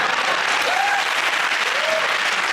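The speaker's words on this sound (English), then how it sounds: "give that round of applause for Chris, Hugh and Milton." Studio audience applause on a TV comedy panel show, a steady dense wash of clapping throughout, loud and close, with no talk over it.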